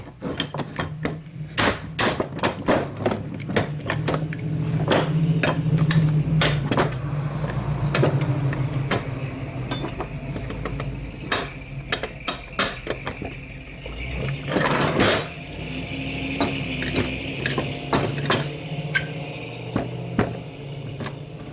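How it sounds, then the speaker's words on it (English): Metal clanks, clicks and ratcheting taps as bolts are tightened while reassembling a leaking Harbor Freight Pittsburgh hydraulic floor jack, a steady run of sharp close knocks with a louder cluster midway, no talk. "Locking all the bolts."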